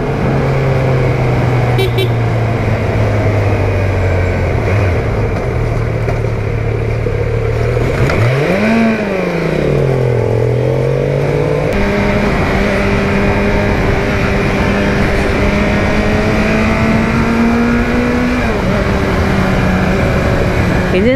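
A new Kawasaki Z900 motorcycle engine pulls hard in third gear at about 80–85 km/h on a ride, loud and close, with the pitch rising and dipping through shifts under heavy wind rush.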